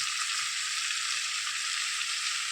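Turmeric and asafoetida powders frying in hot oil in a pan give an even, continuous bright sizzle, close and unbroken, with no separate knocks.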